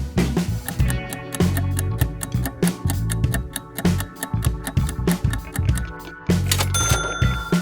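A short bright Honda logo jingle with bell-like chimes and punchy rhythmic beats over a bass line, ending on a held electronic tone.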